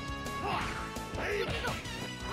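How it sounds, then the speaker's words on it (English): A character takes a heavy smash to the face in the Sega Saturn brawler Guardian Heroes: a few sharp, punchy impacts mixed into busy game music and effects, with a voice talking over the action. "I smashed him in the face."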